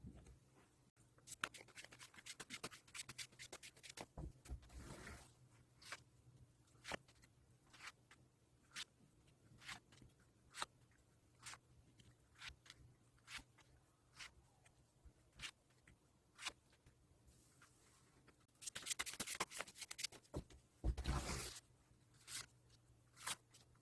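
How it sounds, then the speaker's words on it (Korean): Tarot cards are shuffled by hand in a quiet room, giving soft riffling and tapping bursts at irregular intervals with a denser flurry near the end, close and faint, with no talking. "그럼 카드 셔플 진행해 보도록 하겠습니다."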